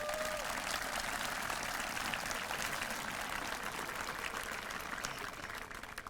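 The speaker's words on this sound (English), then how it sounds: "Let's give our vocal ensemble one more round of applause." An audience applauds the vocal ensemble at a 2022 high school commencement ceremony, a dense wash of clapping heard from a distance at a steady level that thins slightly toward the end.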